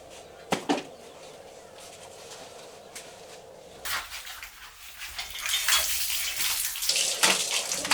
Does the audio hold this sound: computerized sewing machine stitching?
no